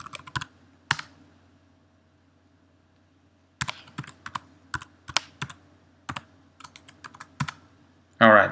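Clicky bursts of typing on a computer keyboard while logging in to a virtual machine, short clusters of keystrokes separated by pauses, with a louder rapid flurry at the end, close and alone with no talking.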